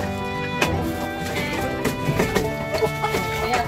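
Hens cluck repeatedly amid a busy, noisy background with scattered sharp knocks and steady hum throughout.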